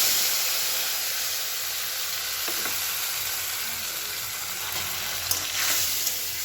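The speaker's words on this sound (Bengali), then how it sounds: "এবার একটু মশলা দিয়ে দেবো।" Spices for Bengali shukto fry and get stirred in a pan with five-spice, chilli and bay leaf, a steady close sizzle with occasional scraping, no talking.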